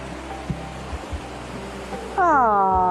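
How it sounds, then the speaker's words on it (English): Dixon Brook flows near Dixon Falls in Canada, a steady broadband rush of water filling the whole stretch, close and even in level, with a louder tonal whine or whistle rising over it near the end. "The Dixon Brook."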